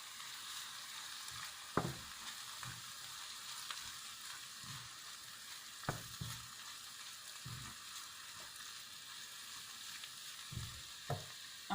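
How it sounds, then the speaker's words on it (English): Mushrooms and black summer truffles fry over lowered heat in a pan, giving a steady soft sizzle with occasional sharper pops and utensil clicks scattered throughout, close by and with no talking. "So I've turned down the heat as the mushrooms are starting to cook, and I'm going to add my truffles."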